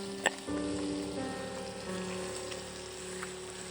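Steady sizzling of fish frying in hot oil in a pan, continuous and fairly quiet, with a small clink near the start.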